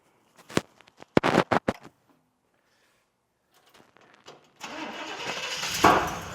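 A hot rod engine is started after carburetor and intake work: a few clicks and clunks, a short pause, then a brief crank before the engine catches and runs loudly and roughly.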